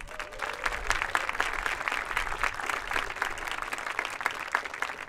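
An audience at an end-of-season marching band event claps steadily for the squad leaders, a sustained, fairly close wash of applause with scattered individual claps and faint crowd noise throughout.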